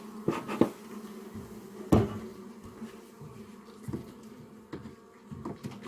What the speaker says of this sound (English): And wow, lots of bees. You guys seeing all this? Look at all these bees here.